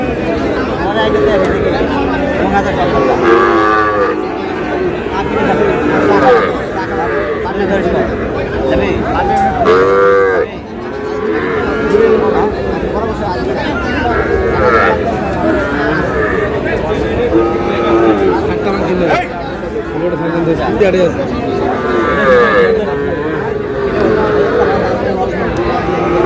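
Young Sahiwal bull calves at a cattle market in Cumilla, Bangladesh, moo repeatedly and loudly, close by, with calls overlapping amid constant crowd chatter and people talking.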